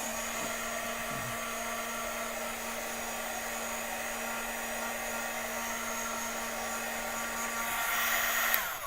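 A heat tool runs steadily for the whole stretch while it dries ink on a card, a strong constant whir with a faint hum beneath, rising a little louder near the end before it stops.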